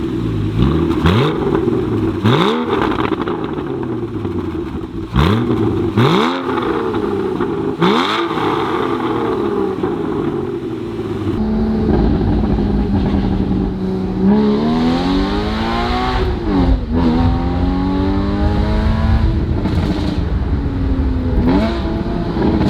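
Porsche Boxster with a Valvetronic Designs valved exhaust on a stock tune, driven hard: loud, close engine revs climbing and dropping in repeated pulls, with rising gear sweeps and throttle blips, no talk.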